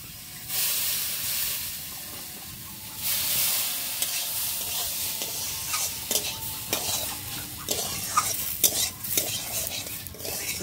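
A dish is stirred in a hot pan while water is sprinkled in by hand, giving bursts of loud hissing sizzle and repeated scraping and clinking of a spoon against the pan.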